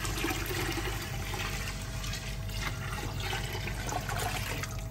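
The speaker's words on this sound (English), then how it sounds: "So we're now just going to add some water." Water pours continuously into a cooking pot, filling about 5 litres for boiling rice; a steady rushing splash that stays close and even throughout.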